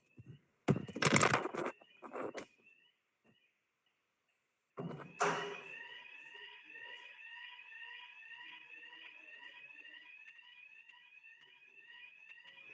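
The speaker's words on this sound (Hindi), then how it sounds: "अपने आप से फायर अलार्म्स बजने शुरू हो गए यहाँ पे" A building fire alarm sounds continuously as a steady pulsing electronic tone after a few loud knocks and bumps, ringing on alone without talk.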